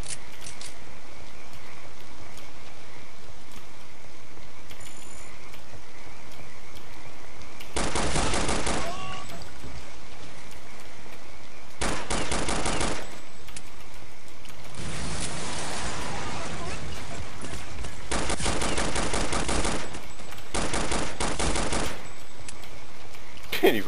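Automatic weapon fire in the Counter-Strike: Condition Zero Deleted Scenes mission, several long sustained bursts over continuous game ambience, loud and close.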